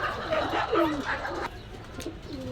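Pakistani and local pigeons at a pigeon shop coo nearby, soft throaty warbling calls overlapping one another, close and clear.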